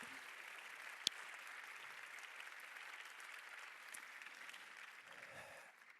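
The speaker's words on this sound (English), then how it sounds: "So please give him a big round of applause as well." A theatre audience applauds steadily at an awards presentation, a dense even wash of many hands clapping that holds throughout, with one sharp crack near the start, before fading slightly at the end.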